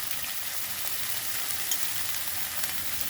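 Radish greens and slit green chilies fry in a pan with a steady, dense sizzle that holds level throughout, close and fairly loud, with no talking.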